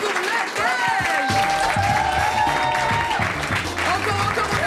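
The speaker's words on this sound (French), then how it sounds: "Encore, on applaudit." Applause from an audience at a stand-up comedy club, a dense steady wash of clapping with crowd noise and some tonal sound or voices mixed underneath, sustained throughout.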